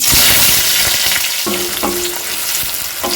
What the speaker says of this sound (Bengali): পেঁয়াজটা নেড়ে ছেড়ে দু মিনিট মতো একটু ভেজে নেবো